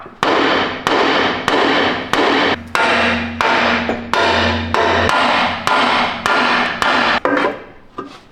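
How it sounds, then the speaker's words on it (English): Hammer blows ring out on a Land Rover Defender's handbrake area during an overland build, about a dozen loud, close metallic strikes at a steady rhythm, each with a short ringing decay. "I was just hammering for no reason"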